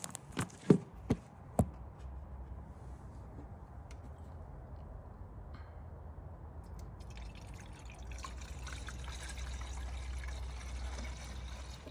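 A few sharp clunks at the start, then a steady low gurgling pour of G12 pink coolant into a 1.8T car engine that grows slightly louder and hissier toward the end.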